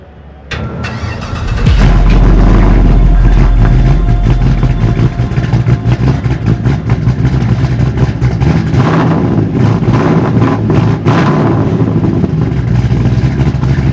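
A car's engine cranks briefly, then fires and catches with a loud roar, settling into a steady, rough-running idle that stays close and loud throughout.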